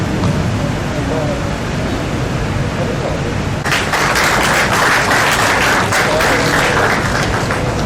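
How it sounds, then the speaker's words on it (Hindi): Audience applause at a government ceremony handing out appointment letters to new recruits, rising from a low murmur into loud, sustained clapping from a large crowd midway through. "जोरदार तालियों के साथ उसका उत्साह अवलोकन करेंगे"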